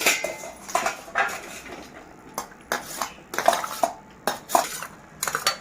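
Cut pieces of small, very firm raw mango drop into a metal bowl and clatter against it in repeated close, bright clinks, with a spoon knocking against the rim.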